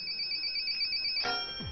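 Phone ringtone for an incoming call on a TV game show: a steady electronic tone plays alone for over a second, then cuts off into brief noise.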